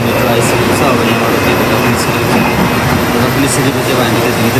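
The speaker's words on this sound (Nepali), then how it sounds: "त्यति बेला पनि यहाँ चाहिँ मेट्रो आइसकेको छ।" A Bangkok metro train arrives at a station with a loud, continuous rumble and hum of wheels and machinery filling the platform.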